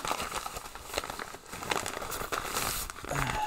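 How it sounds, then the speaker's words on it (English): A parcel's plastic or paper packaging is torn open, giving a dense run of close crinkling, crackling rips lasting several seconds, with no speech over it. "So next we have another parcel here, which is no indication on that one. Let's just rip it open."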